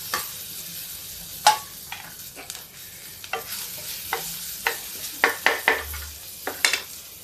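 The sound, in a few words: dal tadka tempering sizzling with green chilli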